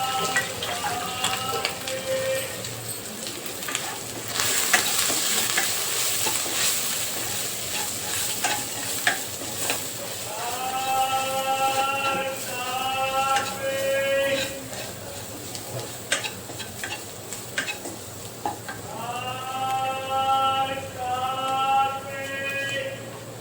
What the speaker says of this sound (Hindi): मसाला भून रहे हैं।